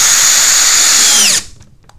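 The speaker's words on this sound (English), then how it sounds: "Just swapping out to my little drill driver." Small drill driver driving a screw into pallet wood on a workbench, a loud steady whine lasting over a second that winds down abruptly as the motor stops, followed by faint handling noises.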